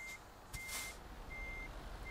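In Euro Truck Simulator 2, a truck reverses to park while its reversing alarm gives three evenly spaced high beeps. Faint engine rumble and a short hiss of air sit underneath.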